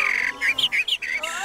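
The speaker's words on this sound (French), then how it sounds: "on écoute le chant des petits oiseaux." Small birds chirp in a quick series of bright, high tweets close by, several short calls in a row.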